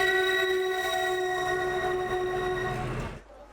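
Train at Lviv railway station, crowded with refugees: a loud, sustained horn blast over the rumble of rail cars, then the horn cuts off abruptly.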